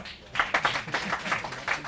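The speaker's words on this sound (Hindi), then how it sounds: "अच्छा हाँ अरे तालियां" A small group claps at a university student gathering, with a short burst of scattered, uneven claps at moderate volume that sit alongside a background voice.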